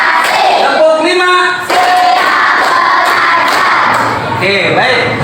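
In a classroom, a group of pupils answers the teacher's 'tepuk 5' clapping call with loud, close unison chanting. Faint rhythmic handclaps and thumps sit under the shouting voices.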